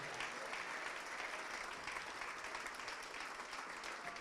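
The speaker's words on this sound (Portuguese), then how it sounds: "Vamos aplaudir mais ao nome de Jesus." Church congregation applauding during a service, a continuous, even roar of many clapping hands that holds steady throughout at a moderate, somewhat distant level.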